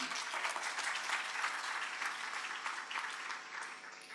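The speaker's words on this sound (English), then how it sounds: "Can we get another round of applause?" Steady, dense audience applause at a social work month event, a sustained round of many hands clapping that fades slightly toward the end.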